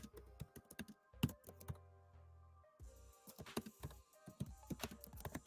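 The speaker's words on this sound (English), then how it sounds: "I know it's gonna sound like I'm typing really hard, but my mic is kind of close" Heavy keystrokes hammer a computer keyboard close to the mic, uneven bursts of sharp clacks and spacebar thumps with short pauses between them.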